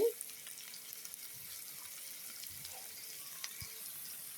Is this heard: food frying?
yes